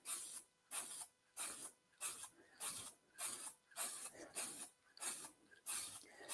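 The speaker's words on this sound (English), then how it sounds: "So I'll do a nice little spray here." Ivory lacquer is sprayed onto a wood piece in short bursts, about ten hissing pulses in an even rhythm with brief pauses between, close and fairly quiet.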